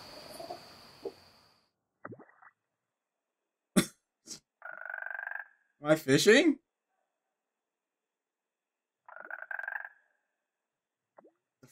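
Frog croaks in the video game Chilla's Art Jisatsu come in several short separated bursts, each a buzzy ratcheting call, close and fairly loud, between bits of someone talking and quiet clicks.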